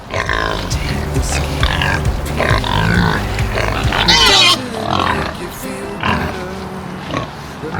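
Pigs grunt and squeal in a loud, busy cluster, with rough overlapping calls and a brief sharp shriek partway through.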